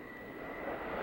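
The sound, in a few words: warplane flying at an air show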